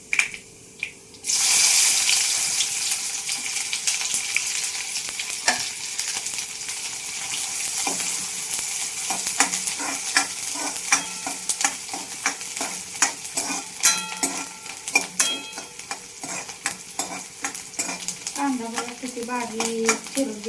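Curry leaves spluttering in hot oil with cumin and mustard seeds over a wood-fired stove, a steady hiss dotted with sharp crackles and pops that grow denser toward the end, with stirring and faint background sounds.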